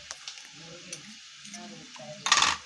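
Spices being stirred into anda chingari in a pan, with soft scraping stirs and a faint sizzle, ending in a louder burst of hissing sizzle.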